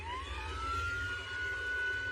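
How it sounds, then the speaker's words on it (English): Police car siren wailing during a pursuit, one steady rising tone that sweeps up and then holds high, loud and continuous with engine rumble beneath. "As police turn on their sirens, the Nissan accelerates."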